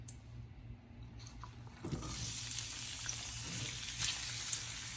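Onion drops into a hot frying pan with a quarter cup of oil, a quiet start giving way to a sudden steady hiss and crackle of sizzling, with a few sharper pops.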